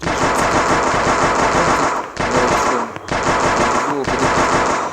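Automatic rifle gunfire in the zombie survival platformer The Last Road, loud rapid bursts of shots repeating in a fast rhythm, broken by brief pauses between bursts.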